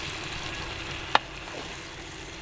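Arvi (taro root) frying in masala in a pan, giving a low steady sizzle with a single sharp clink of a spoon against the pan partway through.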